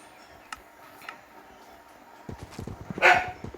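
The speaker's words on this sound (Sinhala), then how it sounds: "අපි බල්ලා කෑ ගහනවා" A dog barks in the Minecraft video game, one sharp bark near the end after a few faint clicks and soft in-game rustling, fairly quiet overall.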